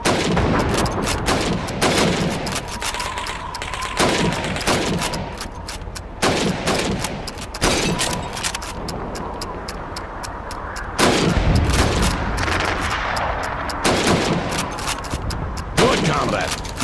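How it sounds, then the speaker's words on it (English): Repeated rifle shots at helmets during Red Army training in Call of Duty 2, sharp loud cracks at irregular intervals over about seventeen seconds, with faint voices in the background. "You have 15 seconds to shoot the helmets."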